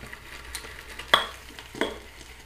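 A shaving brush swirls over a coconut oil-based violet shaving soap with glycerin, giving soft wet scrubbing and two sharper clicks near the end, close by and with no talking.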